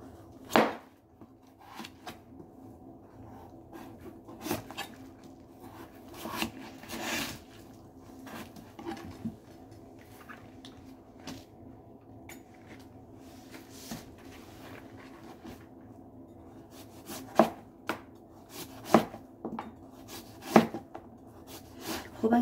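A knife cuts through a large, ripe old pumpkin in quiet, irregular chops and thuds, some sharper than others, close by against a hushed background.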